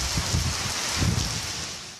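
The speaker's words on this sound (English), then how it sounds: "howling wind and rain in Cathedral City" Heavy rain from a summer storm in the Palm Springs area pours down as a dense, close hiss with gusty bursts of wind over about two seconds.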